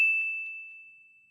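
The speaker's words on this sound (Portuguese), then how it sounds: "ativa o sininho" A single bright notification bell ding rings out clearly, then fades slowly into a long pure tone with nothing else around it.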